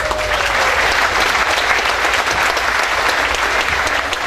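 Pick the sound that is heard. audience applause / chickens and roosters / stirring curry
audience applause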